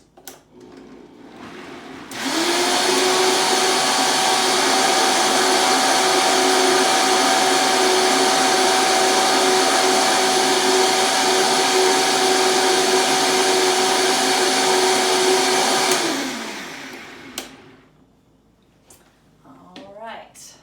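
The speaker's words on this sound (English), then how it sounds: "Blend that right back up." A blender whirs steadily for about fourteen seconds, blending a creamy vegetable and bacon soup with stock, loud and close, starting abruptly and winding down at the end.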